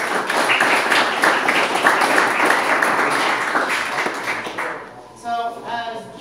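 Applause for supporters at a mayoral candidacy announcement in Altoona, a crowd clapping steadily and fairly close for about five seconds before it fades out as a voice begins speaking.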